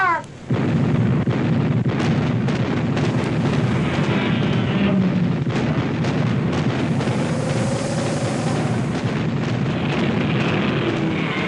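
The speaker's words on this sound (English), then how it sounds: "Battery 1, open fire" Artillery battery firing shells in a Godzilla monster film, a dense continuous barrage of booming blasts and crackling bursts, loud and sustained throughout with no pauses.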